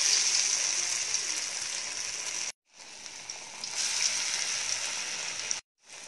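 Pesarla garelu batter of sprouted green gram sizzling in hot pure groundnut oil in a pan, a bright continuous crackle that cuts out twice briefly and returns, with no talk over it.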